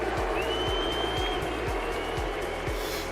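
Arena crowd at a Rocket League esports major playoff in Paris cheering and applauding for Shopify Rebellion, a loud, continuous roar of voices over steady rhythmic bass thumps.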